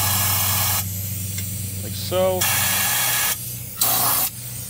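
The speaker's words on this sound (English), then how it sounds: "spray it in every hole of the new control arm" Several sharp hissing bursts from an aerosol can spraying undercoating into the holes of a new car control arm, each a few seconds long, with brief pauses between and someone speaking briefly.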